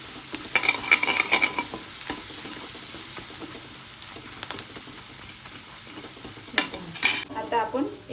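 Masala sizzling in hot oil in a pan for stuffed ridge gourd bhaji, with a spatula scraping and clinking in bursts against the pan over a steady low fry.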